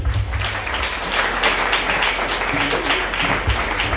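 Congregation applause at an annual church conference, a steady dense wash of many hands clapping for the full stretch with low rumble beneath, loud and continuous, no voices standing out.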